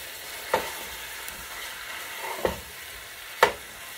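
Dirty rice with spices sizzles softly in a pot under a faint steady hiss, with three sharp clanks of a utensil against the pot spaced irregularly.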